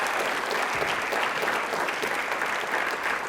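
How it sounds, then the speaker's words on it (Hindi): Loud, sustained applause from a studio audience at a televised quiz show, dense clapping that stays strong and even throughout with no talking. "एक बार तालियां प्लीज़ ज़ोरदार हो जाएं।"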